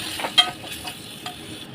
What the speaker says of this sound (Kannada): ಬೋನ್ಲೆಸ್ ಚಿಕನನ್ನು ಹಾಕಿ ಚೆನ್ನಾಗಿ ಮಿಕ್ಸ್ ಮಾಡಿ ಸ್ವಲ್ಪ ಬೇಯಿಸಿ